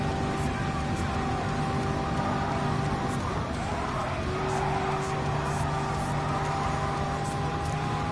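Race cars circling the track in Gran Turismo 7 on a final lap, a steady droning engine whine with sustained tones and faint tire noise throughout.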